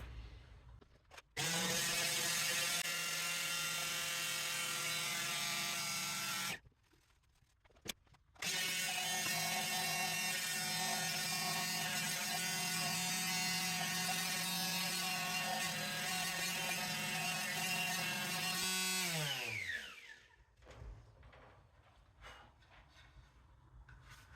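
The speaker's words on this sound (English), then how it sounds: "I got 100 grit sandpaper on there, and yeah, we'll try to lighten it up a little bit." A power sander fitted with 100 grit sandpaper works over CNC-routed wood, a steady droning whine running for about five seconds, briefly stopping, then resuming for roughly twelve more before winding down and cutting off.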